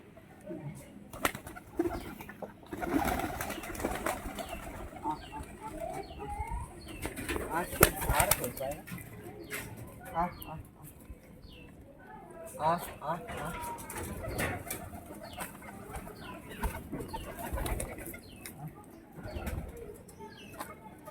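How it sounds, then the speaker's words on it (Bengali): Several colourful pigeons coo softly and flap their wings in bursts near and far, and people talk intermittently over the birds. "খুব সুন্দর সুন্দর কালারের পায়রাগুলো।"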